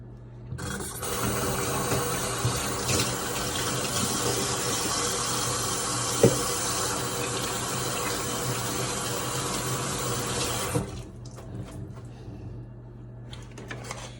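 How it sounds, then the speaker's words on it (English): A tap runs steadily for about ten seconds as hands are washed, a close, full water stream with a small clunk midway, then it shuts off, leaving faint room noise and a few light knocks. "Let me wash my hand."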